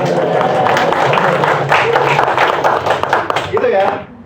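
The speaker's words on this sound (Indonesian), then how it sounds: "Tepuk tangan buat saya." Audience applause at a public speaking talk: dense, loud clapping from a crowd, sustained for a few seconds before fading out.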